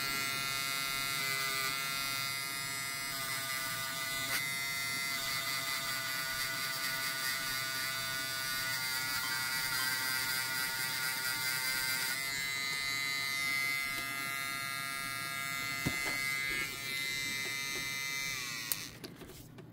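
A Bucasso cordless pen sander, a small hobby sander for plastic and wood, runs with a steady, close, high-pitched electric buzz for nearly twenty seconds before cutting off.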